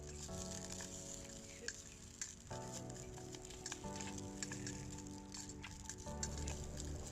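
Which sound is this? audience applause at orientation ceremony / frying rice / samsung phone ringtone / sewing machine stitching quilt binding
frying rice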